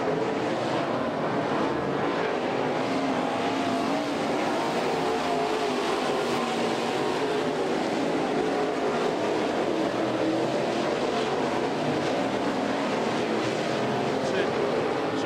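Dirt late model race cars at Greenville during NeSmith Series Gumbo Nationals heat races, a steady broadband roar of engines circling the track continuously for the whole stretch, with a commentator talking over it.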